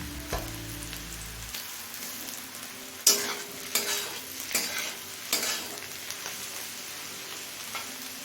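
Onions frying in a pan for ghugni, a steady quiet sizzle with intermittent scraping stirs and clatter, close by, with no talking.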